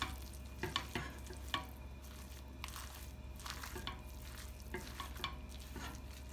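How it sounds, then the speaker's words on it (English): Spoon stirring chicken samosa filling mixed with cream cheese, soft repeated scraping and squelching strokes in an irregular rhythm over a low steady sizzle, close and fairly quiet, no talking. "Now mix everything well."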